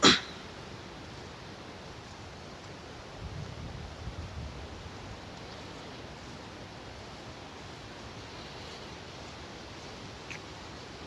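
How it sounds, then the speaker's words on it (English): Wind gusts on a nature trail after a storm, a faint, steady broadband rush with a brief swell partway through and no voices. "It's real windy."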